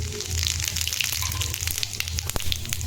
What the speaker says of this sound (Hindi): अब कढ़ाई में डालेंगे खड़ा मसाला